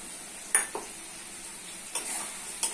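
Meat and bay leaves dropped into a pan of cooked-down spices, heard as faint, brief sizzles and a couple of soft clinks of utensil against the pan over a quiet background hiss.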